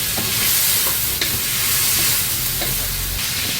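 Pork and green peppers stir-fried in hot oil in a wok, with a loud continuous sizzle and crackle broken by scraping and tossing of the spatula.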